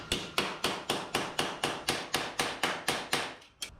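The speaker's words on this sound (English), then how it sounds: "So I'm gonna just hammer on what I can here or there and try to straighten it back out a little bit" Hammer blows on warped, paper-thin welded sheet metal of a 1977 Datsun 620, about a dozen sharp metallic strikes in a steady, even rhythm, close and loud with no talk.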